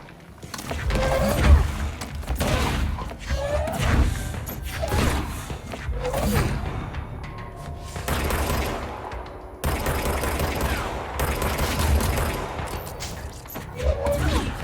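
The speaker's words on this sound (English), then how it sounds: "What are the explosions happening here?" Explosions and bursts of gunfire in the video game Control go off repeatedly, heavy thuds and rattling volleys filling the scene at loud, uneven intervals.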